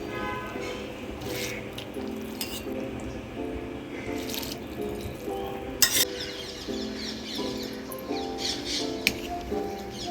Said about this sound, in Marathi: तांदूळ आता त्याच्यामध्ये सोडूया